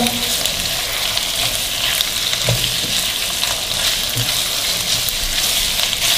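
Julienne-cut chicken fries in a pan over sautéed ingredients for a baked noodle dish, giving a steady, close sizzle broken by scraping and clattering as it is stirred.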